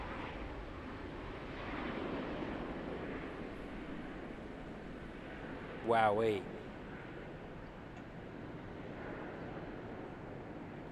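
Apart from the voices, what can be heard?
Emirates Airbus A380 departing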